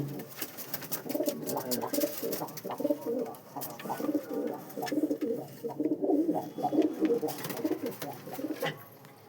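Pigeons, including a red Chinese pigeon, coo continuously nearby, soft throaty rolling calls overlapping in a steady murmur, with faint rustling and clicks in the background.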